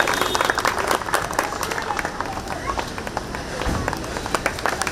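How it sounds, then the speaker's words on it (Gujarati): Applause from a crowd at an honouring ceremony during a group cycle yatra, a dense patter of many hands clapping for several seconds, with a voice talking over it. "એકવાર જોરદાર તાળીઓથી મિત્રો વધાવી લેજો."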